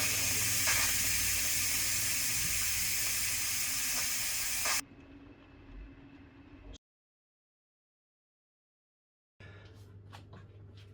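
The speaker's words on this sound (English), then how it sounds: "Let's open the fan, let out the steam." Steam hissing loudly from an electric pressure cooker's release valve while it cooks a beef brisket stew. The hiss runs for about five seconds, then drops to a quieter rumble and cuts off into silence before faint noise returns.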